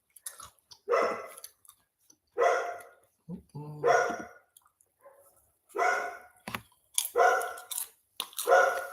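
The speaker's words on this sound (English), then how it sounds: "Sorry about the barking, you guys." A dog barks repeatedly in short bursts, close by, with sharp yaps spaced through the clip.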